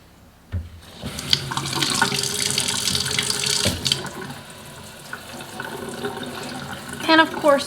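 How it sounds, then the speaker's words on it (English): Tap water runs into a stainless steel sink during rinsing after scrubbing, a steady close splashing rush that starts abruptly and continues with clinks of handling near the end. "we're gonna rinse it super good, get right up underneath where all of that dirt and grime kind of hides underneath the lip of the sink"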